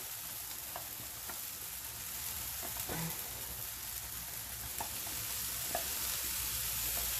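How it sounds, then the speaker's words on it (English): Shami kabab batter made from lamb cooking in a pan with no oil, producing a soft, steady sizzle with faint occasional ticks and pops, low and even throughout. "So I will now put this thing, the batter, into the pan"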